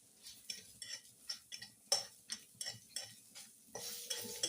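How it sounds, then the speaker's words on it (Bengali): A utensil scrapes and stirs dry spices and dried red chillies in a dry pan, giving a string of quiet, close scraping and ticking strokes in an irregular rhythm. "এই করে সব শুকনো খড়ায় নেড়ে নিচ্ছি"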